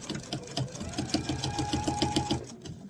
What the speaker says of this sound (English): I'm going to sew all the way down until I get 1/4 of an inch away